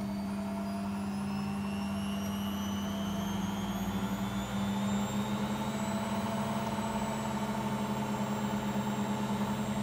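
A Beko washing machine in service mode spinning up, a steady loud hum and whine with rising tones as the drum accelerates, continuous with no talking.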